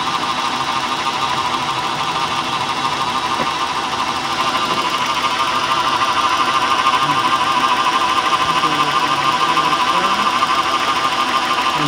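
A Honda car engine idles steadily and close by during an ignition coil test for a P1399 misfire code, a constant mechanical hum with faint ticking and no speech.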